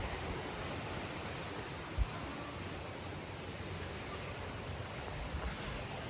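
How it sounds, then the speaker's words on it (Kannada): A small waterfall near Kallathigiri temple outside Chikkamagaluru gives a steady, even rush of falling water. One faint knock sounds near the start, and no one speaks. "ಇದೇ ನೋಡಿ, ಇದೇ ಫಾಲ್ಸು"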